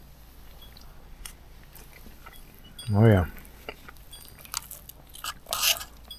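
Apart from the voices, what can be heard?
chewing crunchy broccoli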